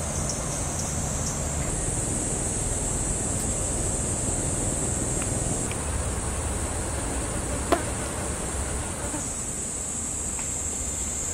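Hornets and other insects buzz steadily around an oak tree, a continuous dense hum that runs the whole stretch with no voices, plus one brief sharp tick partway through.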